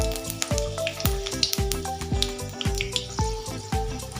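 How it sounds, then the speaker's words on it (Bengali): Five-spice seeds and a dried red chilli frying in hot oil for an egg and brinjal bharta, a steady close sizzle under repeated metallic clanks of a utensil against the pan, no talking. "তার জন্য আমি 5 ফোড়ন দিয়ে দিচ্ছি, শুকনো লঙ্কা একটা দিয়ে দিলাম"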